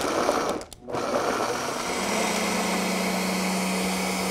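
A food processor pulses basil, garlic, sea salt and olive oil into pesto, giving a continuous motor whir through almost the whole stretch, a brief break near the start, and a steady hum underneath.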